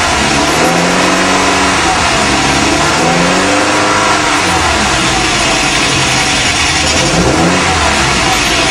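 Cold Alfa Romeo GTV (Alfa 116) engine running on choke, loud and close, revving up and down in repeated swells over a raw, busy exhaust drone.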